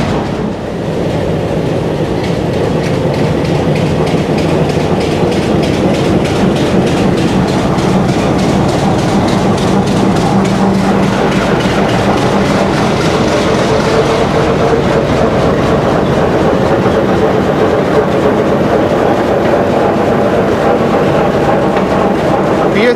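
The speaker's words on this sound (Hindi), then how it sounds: "Apache 8319 की बड़ी दहशत वाली आवाज़ है जी।" Apache 8319 locomotive hauling a train out of Golra railway station: a steady, loud, continuous rumble of engine and rolling wagons with rhythmic clickety-clack of wheels on track, sustained throughout without speech.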